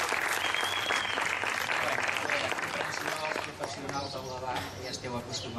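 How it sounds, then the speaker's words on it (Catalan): Festival audience applauding a speaker at a diversity festival in Esparreguera, dense sustained clapping from a crowd that thins slightly toward the end, with some voices mixed in. "Un aplaudiment, sisplau, per Lluís"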